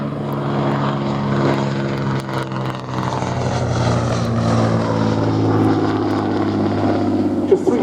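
A Hawker Nimrod, a single-engine biplane carrier fighter, flies at an air display, its propeller engine giving a steady droning roar that rises and falls as it passes, with a commentator talking over it.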